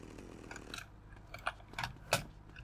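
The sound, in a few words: chainsaw in video game GTA Vice City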